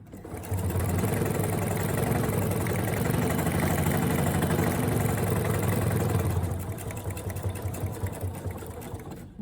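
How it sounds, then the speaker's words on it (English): A sewing machine stitching down the edge of a fabric pouch runs in a steady, loud mechanical whir for several seconds, then slows and winds down toward the end, with no talk over it. "continue sewing down the edge of the pouch"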